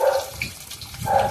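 Water being poured into a pan while a Bengali fish dish cooks, a steady splashing gush that swells at the start and again near the end, heard alone.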